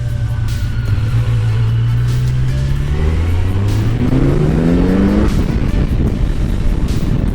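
Kawasaki motorcycle with a flashed ECU revving hard at high RPM, its engine note sweeping upward twice in steady, loud rising pulls with constant roar and no talking.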